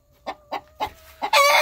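A chicken in its coop gives four short, evenly spaced clucks close by, then breaks into a louder, harsher squawk at the end.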